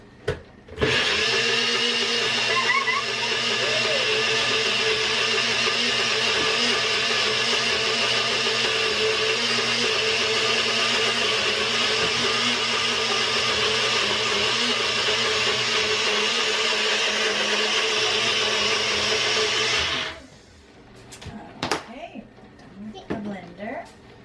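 A kitchen blender runs a steady, loud whir for about twenty seconds, blending cookie dough with spearmint until it turns green, then cuts off abruptly, leaving faint kitchen clatter and voices.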